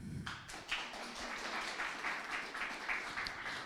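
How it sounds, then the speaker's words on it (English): Demo day audience applauding the judges, a modest spread of clapping hands heard from some distance, fairly quiet, with a few individual claps standing out over the steady patter. "So give all our judges a round of applause."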